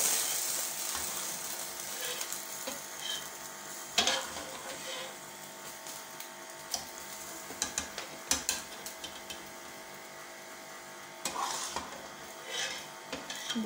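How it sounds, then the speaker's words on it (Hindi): Mutton being lightly fried in a pan for mandi, a low sizzle under irregular stirring scrapes and metal clinks of utensils, with occasional sharper knocks and no talking. "हल्का सा फ्राई करना है"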